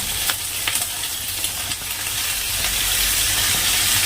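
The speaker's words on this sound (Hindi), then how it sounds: "इनको भी साथ में थोड़ा सा शैलो फ्राई करेंगे भून करके। शैलो फ्राई हो रहे हैं" Chopped carrots and bell peppers shallow fry in hot oil, giving a steady close sizzle with a few small pops that grows slightly louder toward the end, with no voices.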